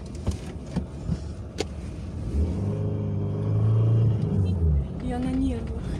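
A car pulls away and drives off, a low rumbling engine rising in a steady rev under voices, loud and close from inside, with some clicks and bumps before the engine swells.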